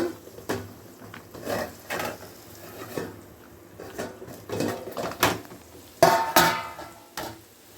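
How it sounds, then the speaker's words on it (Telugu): Metal clanks and scrapes of cookware sound in scattered bursts as a lid is lifted off a pot of gongura dried-fish curry and set down, with no talking. "మూత తీసి చూద్దామండి ఎంతవరకు వచ్చిందో."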